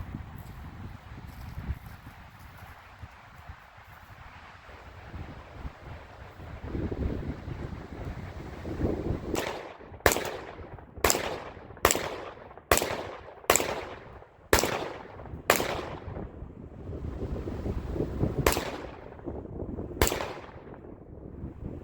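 A Panzer EG200 shotgun fires buckshot outdoors: nine loud, sharp blasts in fairly quick succession, the last two spaced further apart, over steady wind noise.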